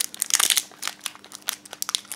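A Minions trading card booster pack wrapper crinkles and tears open in close, irregular bursts of crackling, louder at first and then in sparser snaps.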